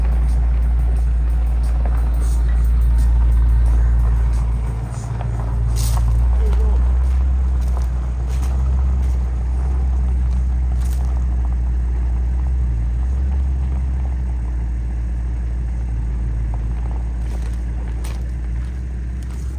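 A BMW six-cylinder car engine running steadily with a loud, continuous low rumble and idle drone, heard close up for the whole stretch, with faint background clicks.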